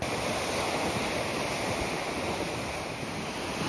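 Continuous sea waves wash and roar without pause along the South West Coast Path, broad and steady, mixed with wind buffeting the microphone.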